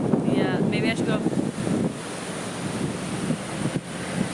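Strong outdoor wind buffets the microphone steadily in the south of France, a constant roar with a few faint voices underneath.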